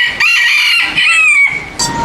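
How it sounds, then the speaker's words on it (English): Chickens and roosters roaming free at an outdoor restaurant in Phnom Penh, Cambodia, crowing and clucking close by, with repeated loud cock-a-doodle calls overlapping in a busy, continuous fowl chorus. "And they've got chickens and roosters roaming around."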